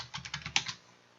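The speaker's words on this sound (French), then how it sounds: "je saisis au clavier" About eight quick keystrokes on a computer keyboard, evenly spaced and close, followed by silence.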